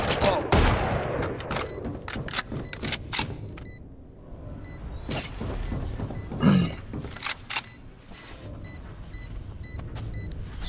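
Gunfire in the Valorant shooter game, with shots fired through walls; a rapid cluster of sharp bursts early on, then scattered single shots and in-game effects, with quiet game ambience between.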